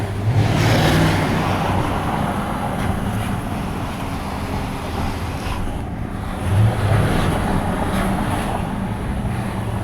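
An Audi S8 4.0 TFSI V8 engine rumbles steadily, heard from inside the car with the window open, its low idle mixed with outside wind and road noise.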